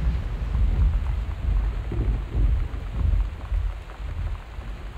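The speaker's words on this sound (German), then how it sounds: "das war jetzt Zufall, dass so ein Donner kam" Rain and rolling thunder from the video game Gone Home fill the clip: a steady, dense downpour with low thunder rumbling and swelling through it, loud and continuous, with no voices.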